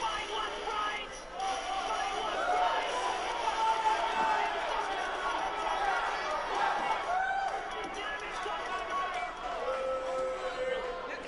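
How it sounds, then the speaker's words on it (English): A crowd at a live independent wrestling event boos, a loose rumble of many voices with a commentator talking over it throughout. "Boos, though, from the crowd."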